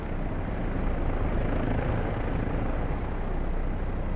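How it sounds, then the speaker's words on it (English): Steady, dense rotor and turbine roar of a Bell 407 helicopter armed with weapons in the DCS combat flight simulator, loud and continuous with no breaks or voices. "this helicopter is just the Bell 407 fitted with weapons"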